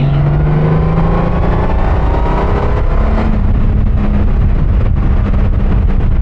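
A Honda Goldwing DCT motorcycle engine drones loud and continuous while accelerating through gears, its pitch rising and dropping at a shift midway, with steady wind rush throughout.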